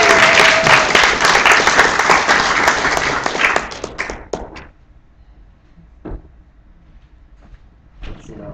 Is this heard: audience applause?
yes